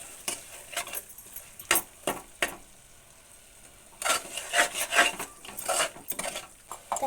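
Biryani ingredients with coriander and mint leaves being stirred in a pot, bursts of close metallic scraping and clinking in two clusters separated by a quieter pause, over a faint sizzle.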